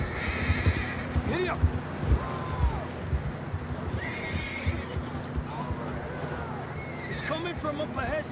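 Horses neigh and whinny repeatedly in Red Dead Redemption 2 gameplay, with clip-clop hoofbeats, a rising neigh near three seconds and more calls later, all fairly close under a steady ambient bed.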